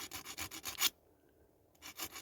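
Wheels of a Dinky Triumph Herald diecast toy being filed off, with about eight quick, rhythmic rasping strokes, then a pause of near silence before two more strokes resume.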